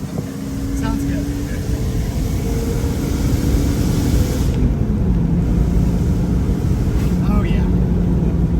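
A first-generation Porsche Boxster driving along a road, its engine a steady drone with a slight pitch change, wind and road noise mixed in throughout.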